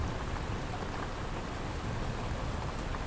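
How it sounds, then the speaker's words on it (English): Soft, steady rain patters on a camping tent in a forest, a dense even wash of drops with no pauses and no voices. "to the soft pattering of the raindrops"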